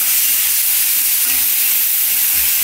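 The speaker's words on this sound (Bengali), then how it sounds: "পেঁয়াজটা আগে ভেজে নিই।" Onion frying in a pan on a home stove, a loud, close, continuous sizzle with faint stirring scrapes, no talking.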